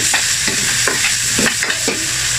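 Chicken liver fries in a pan for an adobo, a steady sizzle broken by several regular stirring scrapes, close and loud with no talking.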